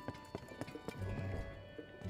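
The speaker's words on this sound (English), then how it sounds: "I think that's my horse" A horse in Zelda: Tears of the Kingdom clip-clopping, a run of distinct hoof thuds close by, quiet and evenly spaced, followed by a brief low snort-like sound.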